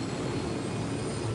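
Aircraft in the video game Ghost Recon in flight, a steady, dense engine roar that holds evenly throughout.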